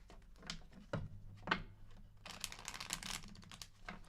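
Tarot cards are shuffled quietly up close: a couple of short papery flicks, then a longer crisp riffle of the deck.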